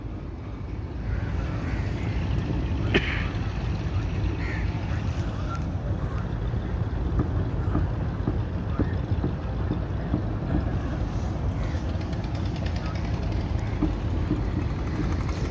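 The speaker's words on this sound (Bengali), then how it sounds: "এই দেখুন স্পিড বোট যাচ্ছে" A speed boat runs along a wide river near shipyards, its engine a steady, moderately distant droning roar mixed with wind noise, holding constant throughout.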